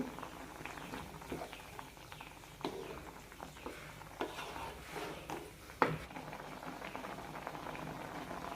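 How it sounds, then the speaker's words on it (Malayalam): Pineapple pulissery curry with curry leaves simmers in a pot with quiet, steady bubbling, broken by scattered soft clinks and knocks of utensils. "ഒന്ന് രണ്ട് മിനിറ്റ് നന്നായി തിളപ്പിക്കാം"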